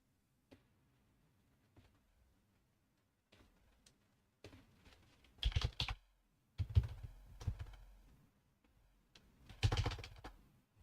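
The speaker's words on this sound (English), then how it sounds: "Why did I type in shape?" Bursts of typing on a computer keyboard while working in 3D software, with sparse single key taps first, then denser clattering flurries that come and go over several seconds, close and fairly quiet with no talking.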